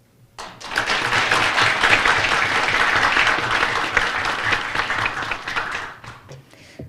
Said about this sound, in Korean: 소개해드릴 때마다 여러분께서는 큰 박수로 맞이해 주시기 바랍니다